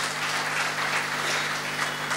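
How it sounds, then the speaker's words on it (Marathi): Steady applause from the audience at a felicitation ceremony honouring Suhas Joshi in Thane, dense and continuous for a couple of seconds, with a faint low hum underneath. "टाळ्या झाल्या पाहिजेत एकदा याच्यावर."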